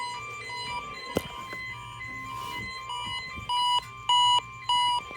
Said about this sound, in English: weather radio warning alarm device